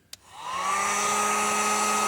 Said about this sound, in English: everybody pretty much has a hairdryer